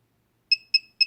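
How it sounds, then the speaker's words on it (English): A Turnigy Evolution quadcopter gives three short, clean electronic beeps in quick, even succession during PID tuning, loud and clear against near silence. "you'll start hearing beeping from the quad"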